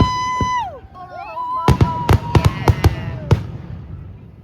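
A Fourth of July fireworks display: whistling rockets rise, then a rapid-fire string of sharp booming bursts and crackles rings out, loud and close, with a few voices in the crowd.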